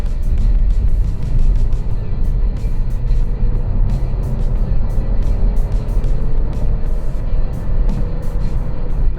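A steady engine drone and road rumble fill the cabin of a 2020 Mercedes-Benz GLA200 Urban (W156), with the motor note gradually rising as the car picks up speed.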